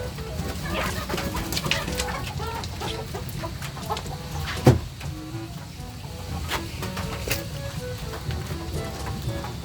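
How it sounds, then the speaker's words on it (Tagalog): Ducks and turkeys on a rainy farm cluck and call in a dense overlapping flock chorus close by, with one louder squawk midway and a steady background chatter of birds. "Yan yung mga bibi natin ah. Bibing marami. Mga pabo."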